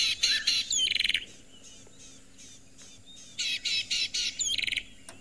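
A fork-tailed drongo's calls play from a small speaker worn in a hat on a safari drive: bursts of harsh, buzzy chattering notes with metallic squeaks, in two clusters separated by a quieter pause.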